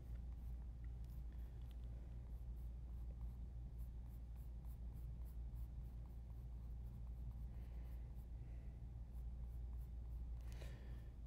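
Watercolor pencils drawing on heavyweight drawing paper, faint repeated scratchy strokes over a low steady rumble of background noise, with no talking.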